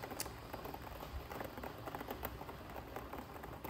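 Steady rain pattering on surfaces outdoors in Denmark in September, a dense even patter with no voices, fairly soft and continuous.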